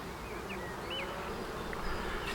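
Honey bees buzz steadily during a spring beehive inspection, a continuous close drone with a few individual bees whining past, no talk.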